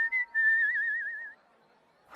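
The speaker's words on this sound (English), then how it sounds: "I love whistling while I work." A person whistles a short, close, clear tune with a wavering, trilling pitch while working. The whistle fades out partway through, leaving near silence.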